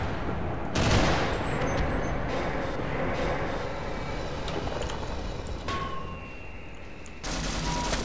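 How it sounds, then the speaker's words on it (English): Steady rapid gunfire from Half-Life aimed at a bullsquid, a dense continuous rattle running for several seconds with a louder opening burst and renewed firing near the end, no talking. "so launch a grenade or let me shoot it"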